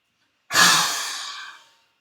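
One deep, audible exhale during a yoga breathing exercise, a close breathy rush that swells quickly and fades over about a second.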